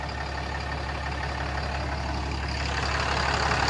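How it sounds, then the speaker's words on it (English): 2011 Ram 5500 Cummins diesel idling through a 4-inch race pipe with a muffler after EGR and DPF removal, a steady, low, muffled hum that stays even and fairly quiet, with no voices. "I've actually never heard a Cummins with a muffler, and it's actually really, really quiet."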